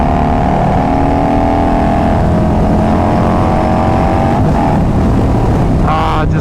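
A Harley-Davidson Road Glide fitted with carbon fiber wheels, its engine droning loud and steady at close range in a continuous rumble, rising slightly as it revs near the end.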